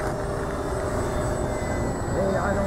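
A T-45 jet trainer landing with gear down gives a steady, loud engine roar throughout, with voices talking over it.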